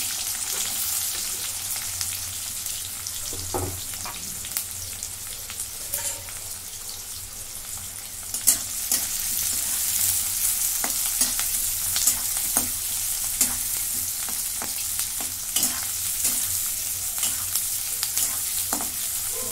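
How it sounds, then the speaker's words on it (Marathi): Chopped onions frying with cumin in a pan, a continuous bright sizzle with scattered clicks and scrapes of stirring, close and moderately loud, with no voices. "कांदे मी चांगले भाजून घेते"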